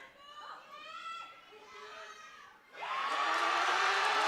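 A powerlifting championship crowd erupts into loud sustained cheering and whooping after an opening lift, rising suddenly over earlier commentary and chatter.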